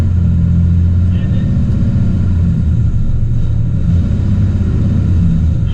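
A car engine rumbling steadily and loudly from close inside the cabin as a previously broken car drives off, a constant low drone with a faint whine above it.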